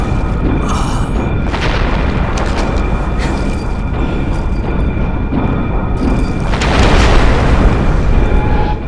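Explosion and raging firestorm in the video game Velvet Assassin, a loud continuous roaring rumble with booming bursts that swells louder near the end, no voices over it.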